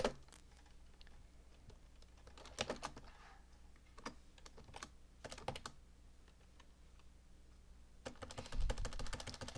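Typing on a computer keyboard, quick irregular key clicks in short bursts, close and fairly quiet, with no voices.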